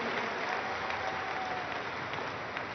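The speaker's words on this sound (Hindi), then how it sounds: "एक बार जोरदार तालियों द्वारा इसका अभिनंदन आप सब लोग करें।" Sustained applause from a large audience at a national assembly in New Delhi, dense and steady throughout without any speech.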